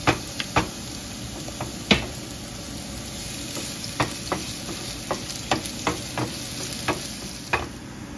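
Onions frying in lard in a skillet, a steady sizzle under a series of sharp, evenly spaced clicks and taps from a spoon hitting the pan, close up and with no voices.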